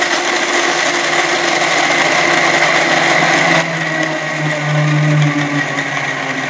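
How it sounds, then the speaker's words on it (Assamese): An electric mixer grinder runs steadily as it grinds coconut, making a loud, continuous whirring drone that shifts pitch partway through as the load changes. "এতিয়া মই মিক্সি জাৰত দি লৈছো আৰু এতিয়া পিছি লওঁ"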